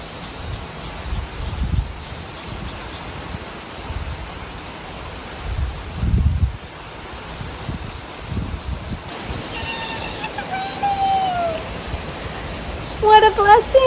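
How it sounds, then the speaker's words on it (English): Rain from a sudden downpour falling as a steady, soft hiss of drops on surfaces, with faint talk and a few higher chirping sounds later on. "it just started downpouring"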